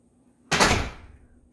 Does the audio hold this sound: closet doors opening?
yes